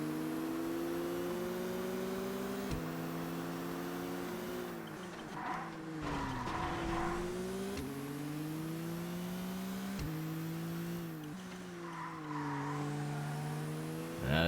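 Race cars in ToCA Race Driver 2 roar continuously through a corner complex, engines rising and falling in pitch with gear changes, with bursts of tire squeal midway and near the end, loud and steady throughout.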